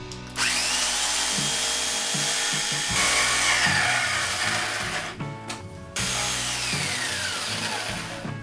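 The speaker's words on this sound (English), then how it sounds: "I'm going to have to use the jigsaw and cut a line for that to fit through." A jigsaw cuts a slot through a guitar body's wood, a loud buzzing motor with rapid blade chatter running continuously, briefly pausing twice before resuming.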